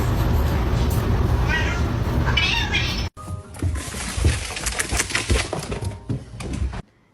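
A cat heard up close in short meows amid clattery household noise and thumps, with a sharp break partway through.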